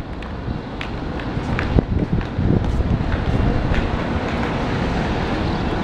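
Strong wind buffets the microphone outdoors at a mountain viewpoint, a loud, steady, broadband roar with gusty bumps that runs through the whole stretch.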